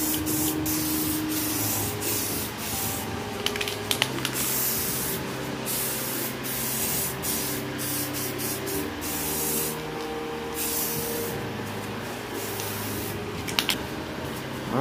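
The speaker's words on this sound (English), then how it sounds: "So let's go ahead and spray it down." A spray gun lays down the final clear coat on a car's wing extension, a steady continuous hiss with brief trigger pauses and small hitches throughout.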